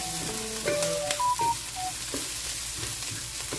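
Green chillies cut into pieces and stirred into frying onions in a pan, crackling with a busy sizzle and scraping stir strokes, with a few bright tonal beeps mixed in, no voices.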